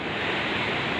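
Fairly big ocean waves break on Pantai Dlodo beach at Rejosari, a shore of black and white sand, heard from rocks on its western side as a loud, continuous rushing wash of surf.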